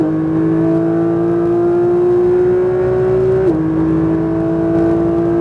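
A Porsche 992 911 GT3 engine winds up loudly under acceleration on a track, then its pitch drops sharply at an upshift before it keeps pulling, a continuous close mechanical drone with no talk.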